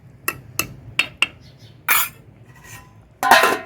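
A spoon stirring bottle gourd and tomato curry in a pot gives several short, sharp clinks in a row, followed by longer scraping swishes against the pot.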